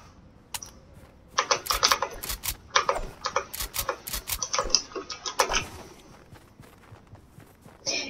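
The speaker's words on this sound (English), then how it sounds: "If you can hear my keyboard, I'm actually kind of sorry" Keyboard clicking during a Fortnite match: quick irregular clusters of sharp taps, close by, busy in the middle and thinning out toward the end.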